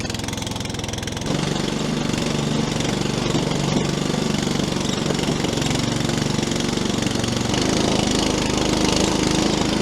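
A motorized muck truck engine chugs loudly nearby, a steady rough mid-pitched rumble that settles into a continuous running drone as the machine drives off in first gear.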